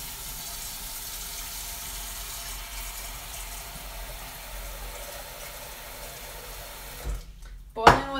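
Hot tap water runs steadily into a cooking pot at a kitchen sink, a continuous broadband rush that holds for about seven seconds before a brief clunk and a sharp, louder splash or knock near the end.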